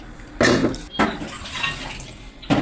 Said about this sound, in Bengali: অল্প একটু পানি দেবো আদা রসুনের